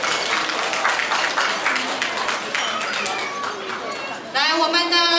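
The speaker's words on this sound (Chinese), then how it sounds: "一个热烈的掌声" At a gathering, a crowd gives a mother a long burst of warm applause, with dense, steady clapping and chatter throughout, before a voice cuts in at the end.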